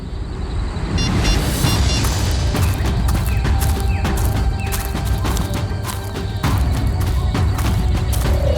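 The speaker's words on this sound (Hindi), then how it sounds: "ये पटाखों की आवाज नहीं, कोई गोली बरसा रहा है।" Rapid bursts of gunfire crack loudly and close in a forest setting, repeated sharp impacts running almost continuously over a dense rumbling background.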